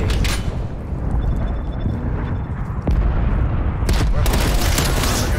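Explosions and gunfire in Black Ops Cold War as an RC-XD is destroyed, loud booming bursts at the start and again near the end over continuous battle noise.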